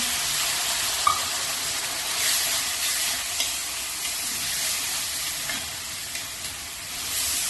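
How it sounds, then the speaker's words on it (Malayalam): Hot milk being poured and stirred into a rava laddu mixture in a pan, giving a steady soft sizzling hiss with faint scraping stirs and a few small clicks. "1/4 കപ്പ് തിളപ്പിച്ച് നല്ല ചൂടുള്ള പാല് കുറേശ്ശെ കുറേശ്ശെ ഒഴിച്ച് ഇളക്കി കൊടുക്കാം."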